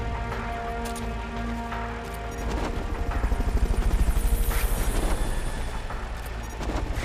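A Fulton recovery helicopter in the video game Metal Gear Solid: Peace Walker, its rotor thumping in a steady rapid pulse that swells louder midway, heard over a busy game soundscape with sharp clicks and tones.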